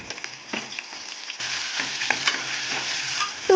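Onion with ginger paste and bagara spices sizzles in hot oil as it is stirred, a dense close frying hiss that swells after a moment, punctuated by spoon scrapes against the pan, with no talking.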